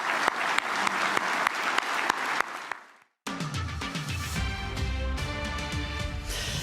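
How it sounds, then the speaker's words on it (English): Audience applause at a live event announcing a referendum date, steady dense clapping that cuts out briefly and then resumes at full strength. "we can thank them with our applause and our love"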